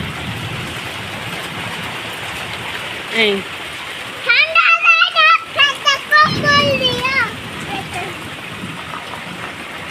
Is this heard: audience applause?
no